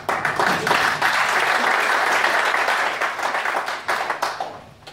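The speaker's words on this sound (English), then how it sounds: "give it a bit of a round of applause, Eugene from Oldcastle." An audience at a GAA panel event applauds warmly, a dense wash of clapping that holds steady and then thins out into scattered claps at the end.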